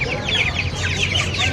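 Two hens and a rooster at a hill-country native chicken market, clucking and squawking close by in a busy, continuous stream of calls over low background murmur.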